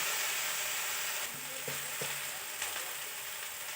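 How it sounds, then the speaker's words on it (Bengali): Crushed elephant apple being stirred with salt and turmeric in a pan for a pickle, a soft continuous frying hiss with a few scraping clacks of the spoon against the pan, close and steady, with no talking. "এবার আমি খুব ভালো করে নাড়াচাড়া করবো।"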